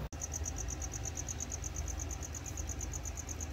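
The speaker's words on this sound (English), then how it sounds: "Let's add some crickets." Crickets chirp in a fast, steady high-pitched pulse that runs throughout, over a low background rumble, with a brief click at the start.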